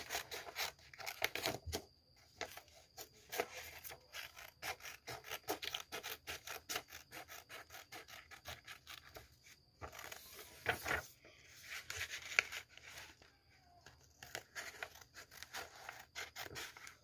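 Scissors snip through paper while a drawn and coloured heart shape is cut out, giving a steady run of crisp, close clips and rustles with a few short pauses.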